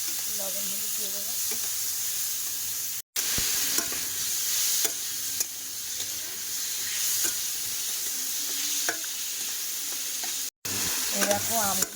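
Chopped small mangoes with salt and turmeric sizzle and fry in a wok, the steady hiss broken by scraping stirs and two brief cutoffs, with no voices.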